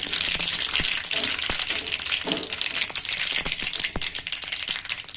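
Mustard seeds and fenugreek popping in hot oil, a dense crackling hiss with sharp individual pops scattered throughout, loud and close with no talking.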